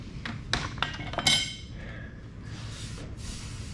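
Sharp hammer blows on sheet metal for an early Ford Bronco floor pan, struck against a metal brake: about six metallic clanks in the first second and a half, then a quieter shop background.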